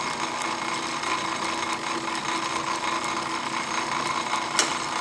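A small antique model metal shaper runs with a short stroke of about 2.5 inches, giving a steady mechanical whir with faint regular clicks and a small knock near the end, close up and even in level.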